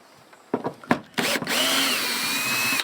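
A power drill drives screws through a washer into a roofing panel on a chicken coop, with a few short handling knocks and bursts followed by one sustained, close, whirring drive.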